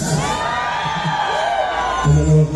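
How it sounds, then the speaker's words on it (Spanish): A crowd of girls at a concert in Moroleón screams and cheers, sustained high-pitched shrieks and whoops rising into a loud swell near the end. "a ver ese grito de todas las chicas enamoradas"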